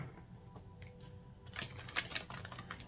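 Crisp riffling and fluttering of cards being shuffled, quiet at first then building into a brighter burst of rapid flicks, close by with no talking.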